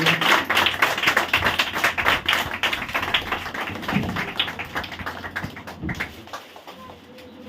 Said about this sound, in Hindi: जोर से ताली मार के स्वागत करेंगे।